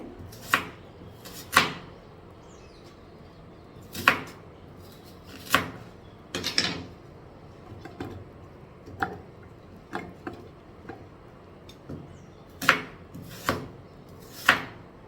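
Knife thinly slicing onions for curry on a cutting board, a series of crisp, irregular chopping taps, some louder and sharper than others, close by with no talking.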